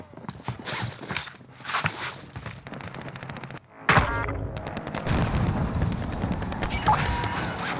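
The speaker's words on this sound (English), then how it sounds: "Taking fire here." Gunfire in the video game Warzone on Rebirth Island, with rapid bursts of shots and footsteps that become louder and denser partway through, mixed with game effects.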